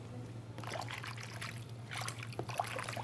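Suction catheters dipped into a rinse bucket of water, giving soft trickling and splashing sounds over a low steady hum, quiet and close.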